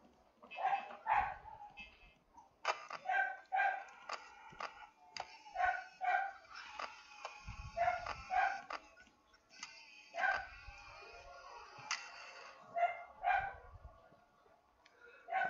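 A dog barks in short, scattered bursts over quiet ticking and clicking sounds from a Five Nights at Freddy's gameplay session, fairly faint overall, with no speech.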